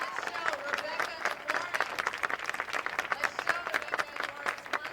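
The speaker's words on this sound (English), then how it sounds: "Let's give all of the speakers one last round of applause." Applause for the speakers at a Google workers' town hall, sustained crowd clapping with sharp individual claps standing out, steady and fairly close, with faint voices underneath.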